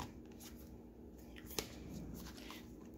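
Oracle cards are shuffled by hand, a quiet soft riffling and sliding of card stock up close with a single sharper snap partway through.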